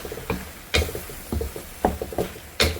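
Chicken and mushroom stir-fry is stirred in a pan: a series of sharp utensil clacks and scrapes at an irregular pace, about six distinct strikes, close and clear over a faint background.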